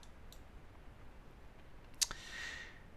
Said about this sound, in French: je vais cliquer sur j'accepte